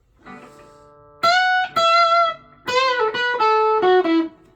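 An electric guitar solo drenched in reverb, played over A pentatonic: a soft opening note, then a few loud, ringing sustained notes and string bends that bleed into one another, played alone.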